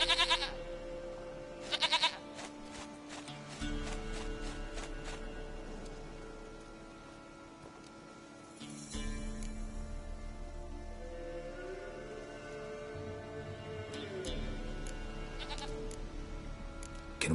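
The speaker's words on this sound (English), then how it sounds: "Goat of mine, dearest, sweetest goat." A goat in The Witcher 3: Wild Hunt lets out short bleats near the start, over a game soundscape of steady rain and low droning music that continues throughout.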